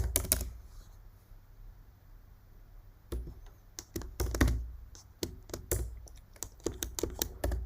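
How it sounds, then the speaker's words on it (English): Keys on a computer keyboard clatter close and distinct in quick irregular runs, with a short pause near the start before the typing picks up again. "So I'm going to type in site latitude."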